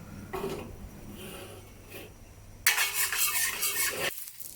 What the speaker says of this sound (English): I'm using my well-seasoned cast iron wok to sear the tenderloin